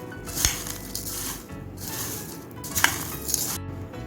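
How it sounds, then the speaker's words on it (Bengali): Curry leaves and dried red chillies dropped into frying flattened rice, with steady sizzle and a few sharp pops and scrapes of stirring, close and moderately loud. "এখন আমি কারি পাতা দিয়ে দিচ্ছি, শুকনো লঙ্কা দিয়ে দিচ্ছি"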